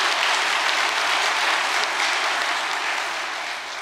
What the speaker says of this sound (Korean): 여러분 큰 박수 한번 보내주시면 고맙겠습니다